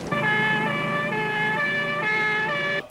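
An ambulance siren wails loudly and steadily close by, a sustained tonal call with a slight pitch shift, cutting off abruptly near the end.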